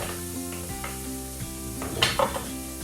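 Vegetables sweating down in a pan for spiced sweet potato, squash and coconut soup give a soft continuous sizzle under a steady low hum, with a few light clinks of a utensil near the end.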